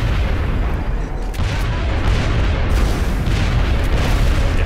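Gunfire and explosive booms in the XCOM Enemy Within video game, a dense, loud, continuous barrage of heavy blasts with sharp crackling bursts layered throughout and no clear speech.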